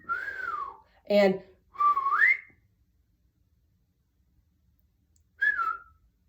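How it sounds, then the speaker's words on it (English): Human whistling in two contrasting styles: a gliding melodic whistle at the start, then a short burst and a rising whistled phrase, and after a pause of about three seconds one more brief whistle, all fairly close and clear. "I'm hearing 2 different types of whistles."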